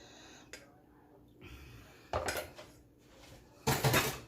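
Beef tipped into a noodle bowl with beef bone broth, a couple of clattering bursts of dish and utensil noise, close by, separated by quiet stretches.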